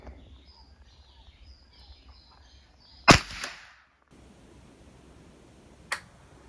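A single sharp crack of a .22 LR rifle shot firing CBC Hyper ammunition at about 8 metres in a penetration test rings out and decays briefly, followed later by a fainter, shorter snap in a quiet setting.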